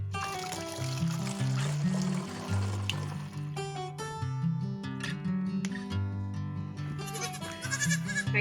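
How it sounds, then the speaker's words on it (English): Baby goats on an Alaskan homestead farm bleat over and over, close and loud, with many cries overlapping among some trickling water at feeding time. "Mr. Reeve is finishing milking all the lady goats. I'm gonna get some of these babies fed"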